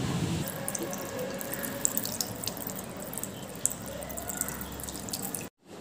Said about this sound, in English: So I just washed my hand